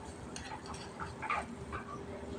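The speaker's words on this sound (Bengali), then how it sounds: "এই যে দেখো কত সুন্দর ভাজা হয়ে যাচ্ছে বেগুনিগুলো" Eggplant fritters (beguni) frying on a tiny stove in a mini kitchen, a faint, steady crackling sizzle with a few soft clinks from utensils and dishes.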